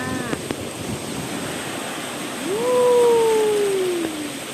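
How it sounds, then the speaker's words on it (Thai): Sea waves rolling in at Mae Ramphueng beach in Rayong, a steady wash of surf with wind noise, swelling louder midway, while a single faint tonal call sweeps briefly over it. "นี่บรรยากาศที่หาดแม่ลำพึงนะคะ"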